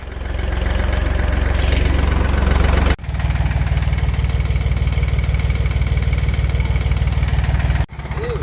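A tractor hauls two coupled trailers under heavy load, one with its front trailer converted to four wheels, its engine thrumming steadily and close with a deep, continuous low drone and a brief dip near the middle.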